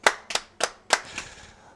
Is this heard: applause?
yes